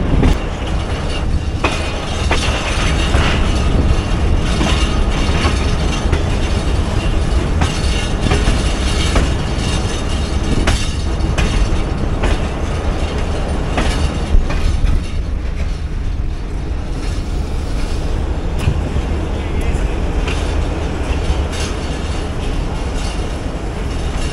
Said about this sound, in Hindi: कुछ ही देर में इंशाल्लाह सक्कर एक्सप्रेस भी अब क्रॉस करेगी हमें।